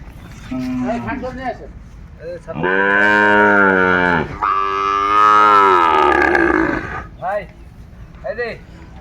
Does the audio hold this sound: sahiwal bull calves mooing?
yes